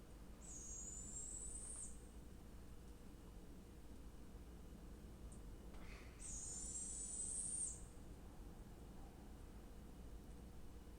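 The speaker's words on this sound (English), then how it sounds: "This like raspy note is just the classic like juvenile owl." A juvenile owl gives two drawn-out, raspy hissing begging calls a few seconds apart, moderately distant over a steady background hiss of outdoor night noise.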